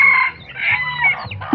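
Pet ducks at feeding time call loudly and continuously close by, with harsh, rasping cries rising and falling and no talking over them.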